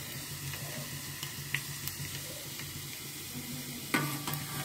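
Ingredients for a homemade hair oil fry gently in oil over low heat, giving a soft, continuous sizzle with occasional light stirring clinks close by.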